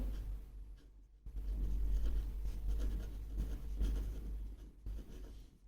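Chalk or a marker writes on a classroom board during an English grammar lesson, giving close, continuous scratchy strokes with brief pauses between words over a low steady hum, and no one talks.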